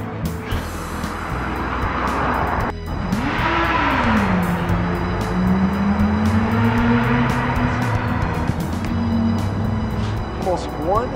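A car roars past close by, its engine pitch sweeping and fading, with steady traffic noise and faint voices in the background.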